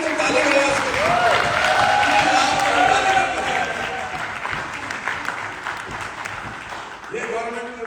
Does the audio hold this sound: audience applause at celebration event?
yes